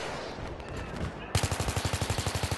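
Gunfire in the video game Battlefield 3: a run of rapid, evenly spaced shots, close and loud, beginning suddenly after a noisy stretch.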